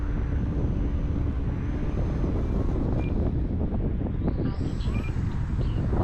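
Strong wind buffeting a floatplane, a loud, constant roaring rumble with heavy low-end gusts on the microphone throughout, without any talking.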